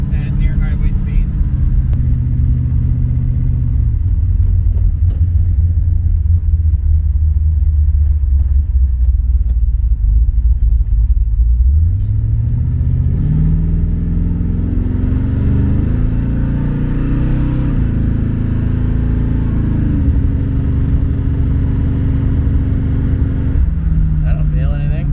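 A 700 hp Chevrolet Nova fitted with a Gear Vendors overdrive cruises on the road near highway speed, its engine a loud continuous rumble that shifts pitch midway as it accelerates, with people talking over it inside the car.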